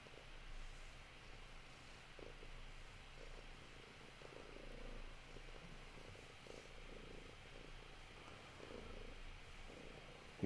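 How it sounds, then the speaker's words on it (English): A cat purrs on a person's lap, a low, continuous rumbling purr with a steady rhythmic pulse, close and fairly quiet, running alone for about ten seconds. "You can probably hear him purring."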